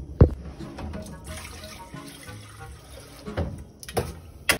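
Water running from a tap in a casual home setting, splashing unevenly with several louder bursts and knocks against the vessel, close and fairly loud, with no talking.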